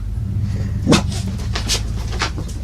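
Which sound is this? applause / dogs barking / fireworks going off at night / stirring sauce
dogs barking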